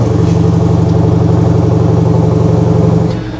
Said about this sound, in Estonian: sest teada ju Lamborghini teeb ägedat häält.